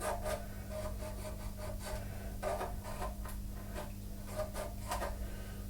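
A pen or marker scratches a line across a control box face plate in a series of short, close rubbing strokes over a steady low electrical hum.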